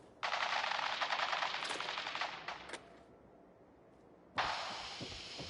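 Gunfire in Fallout 4, a loud, rapid automatic burst lasting about two and a half seconds, a brief lull, then another sustained burst of shots starting abruptly.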